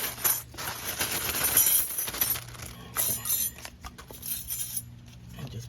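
Metal brake clips for a Toyota Camry's rear brake pads clink and chink repeatedly as they are handled, bright close metallic taps scattered over a few seconds with no talk.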